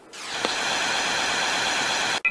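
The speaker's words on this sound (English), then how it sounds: "Well, time for a nice shower." Water from a bathroom shower runs in a steady, loud hiss that starts abruptly and stops sharply at the end, with a small knock partway through.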